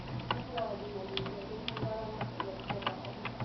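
Typing on a computer keyboard, with irregular light key clicks coming close together at a steady, unhurried pace over a low background hum, with no talking.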